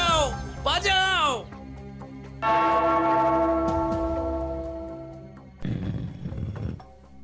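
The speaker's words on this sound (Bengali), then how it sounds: "ওই ঘন্টাটা বাজাও, বাজাও।" A large bell rings out loud and sustained with a long decaying resonance, followed by a rough roaring outburst, after speech in a children's comic drama scene.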